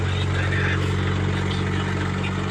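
Loud, steady engine drone with a modified tambutso exhaust muffler, its low rumble running continuously throughout the short stretch.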